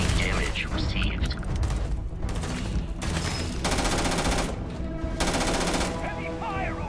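Heavy gunfire rattles through a Starfield firefight, with rapid automatic bursts and booming shots that come in dense waves and short pauses, together with game effects and a voice.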